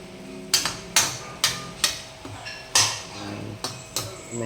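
Metal utensil scraping and knocking against a cooking pot while food is stirred, in a run of sharp clanks spaced about half a second apart, close and loud with no talk.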